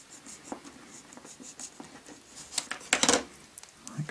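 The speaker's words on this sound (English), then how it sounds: "I'm just going to cut off the excess sellotape just using a knife here" Close, quiet scratching and light scraping of a knife trimming excess sellotape on a Star Wars Snowspeeder model, with soft irregular taps and a brief denser rasp near the middle.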